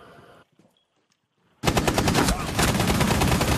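Rapid automatic gunfire in Rainbow Six Siege on the Coastline map bursts in loud and sustained after a quiet moment, a dense continuous rattle of shots filling the rest of the moment.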